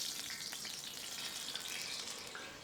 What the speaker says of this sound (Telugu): ఉల్లిపాయ ముక్కలు టమాటో ముక్కల్ని నూనెలో చక్కగా వేయించాక